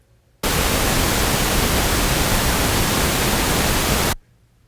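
Steady broadband random noise signal like white noise, loud and continuous for about four seconds, starting and stopping abruptly with near silence on either side.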